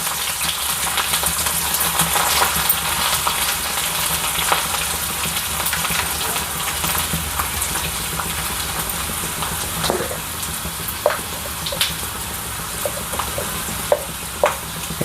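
Peanuts go into a pan of crispy frying garlic, a steady bright sizzle filling the space with scattered small clicks and taps of nuts and spoon, growing more frequent toward the end, close and with no talking.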